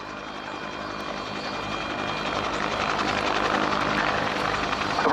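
A Westland Whirlwind helicopter flies a search and rescue winch demonstration at Yeovilton Air Day, its rotor beating in a rapid steady rhythm that swells steadily louder as it draws nearer.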